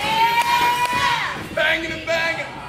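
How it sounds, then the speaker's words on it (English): Wrestling crowd at an independent show chanting during a match, rhythmic massed voices rising and falling in loud waves with whoops and yells mixed in. "Fans have got it completely wrong with this chant right now."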